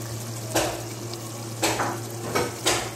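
Goat liver is stirred into a cooking masala in a pot, giving a soft continuous sizzle over a low steady hum, with four distinct scraping strokes of a spoon, close and without voices.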